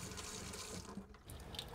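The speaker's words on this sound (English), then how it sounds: "I'm gonna flush all the tubing that goes to the different faucets." Water flushes through the faucet tubing of a campervan's plumbing, a quiet, continuous rushing hiss that runs steadily throughout with no voices.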